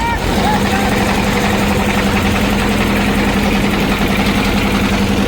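Loud, steady drone of a river ferry trawler boat's engine crossing a wide river, a constant low hum with a sustained tone running throughout, close and continuous, with voices talking faintly underneath.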